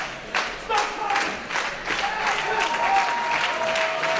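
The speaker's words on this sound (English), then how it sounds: "Stop it! Stop clapping!" Clapping from a crowd at a wrestling event, a burst of rhythmic claps with a few sharp thumps, moderately loud and continuous for several seconds.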